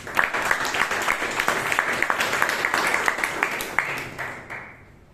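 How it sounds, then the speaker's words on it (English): Audience at a Toastmasters club meeting in Bangalore applauds a speaker, a lively, fairly close burst of many hands clapping with crisp individual claps standing out, then tapering off and dying away near the end. "Give her a big round of applause."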